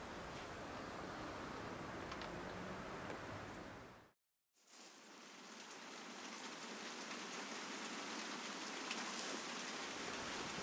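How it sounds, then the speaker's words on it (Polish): Heavy rain pounds on the asbestos roof of a mountain hut in a dense, steady hiss, broken by a brief silent gap before the downpour resumes just as constant and close. "aż tu nagle budzi mnie walenie deszczu, azbest nad głową"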